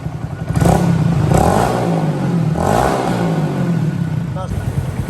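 A 2022 Honda Grom motorcycle fitted with a replica Yoshimura exhaust revs up close in several loud rising bursts, its buzzy engine note falling back to a rough idle between pulls.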